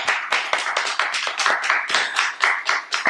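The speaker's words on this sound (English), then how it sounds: "Give a big round of applause for all of yourself." Close, rapid clapping from a small audience at a devotional class comes in quick irregular bursts, loud and without talk.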